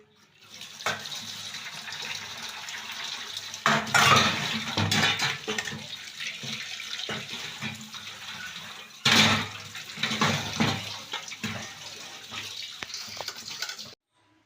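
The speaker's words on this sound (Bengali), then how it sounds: "এগুলো রান্নার বাসন আমি মেজে নিই যখন পারি" Cooking pots and dishes scrubbed and rinsed under a running tap, water gushing steadily for most of the clip with louder splashes and clatter in two bursts before stopping.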